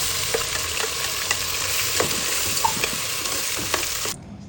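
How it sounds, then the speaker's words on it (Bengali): Onion fries for a duck curry with ginger, garlic and tomato, giving a loud, steady sizzle with repeated stirring clicks and scrapes that stops abruptly near the end. "পেঁয়াজ একটু ভেজে নিচ্ছি, বেটে রাখা আদা, রসুন, টমেটো দিয়ে দিচ্ছি।"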